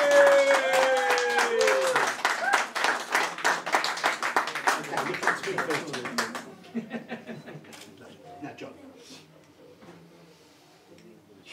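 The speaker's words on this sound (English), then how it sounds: "So I think she deserves another clap for that one." An audience claps at a 2023 multicultural interfaith cricket match in Havering, a lively burst of many hands that holds for several seconds, then thins to scattered claps and dies away as a voice speaks.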